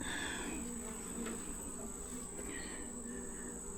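A dense, steady hum of many honey bees buzzing close by in a weak hive, continuous and even throughout with no talking.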